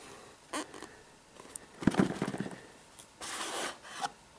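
Google Nexus 7 tablet box being opened: cardboard rubbing and scraping, a brief rustle, a louder crackling tear of taped packaging, then a longer sliding scrape of the lid, close up.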